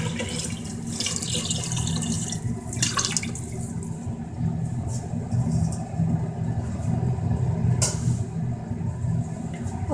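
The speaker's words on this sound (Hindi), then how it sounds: "और 4 गिलास पानी भी डाल देंगे।" Water runs from a tap or is poured into a pot of moong lentils for dal, a steady rushing flow with a few clinks and splashes and a low hum beneath.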